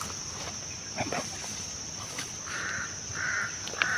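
Crows caw in the distance, several short harsh calls spaced irregularly over a steady high outdoor hiss, a few louder caws near the end.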